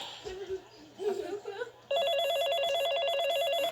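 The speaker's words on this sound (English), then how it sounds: "Just then, the kitchen phone rang." A kitchen telephone rings in a steady, repeating electronic trill, loud and close, after a brief stretch of quiet voices and a soft laugh.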